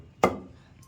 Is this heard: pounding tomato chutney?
yes